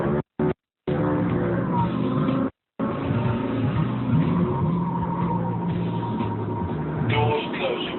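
A car engine revving hard with roaring acceleration and possible tire squeal, loud and continuous apart from a few brief silent gaps.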